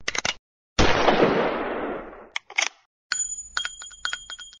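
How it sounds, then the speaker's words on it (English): A single gunshot sound effect in an audio drama cracks out sharply and fades in a long, bright decay, framed by short clicks and a burst of rapid metallic rattles afterward, with no one talking. "I pulled out the gun from my waistband and calmly fired one shot into his skull."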